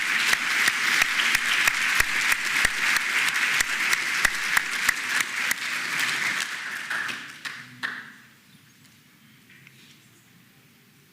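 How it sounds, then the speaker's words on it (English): Graduation audience applauds the Class of 2024 advanced-degree recipients at a medical college ceremony, loud dense clapping with sharp claps standing out, sustained for about seven seconds before fading out and dropping to near silence. "let's give a round of applause to all those students who are getting advanced degrees"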